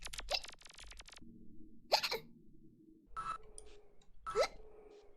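Close, abrupt hiccups from a clown-persona streamer, a few quick gulping catches spaced a second or so apart over a quiet hum.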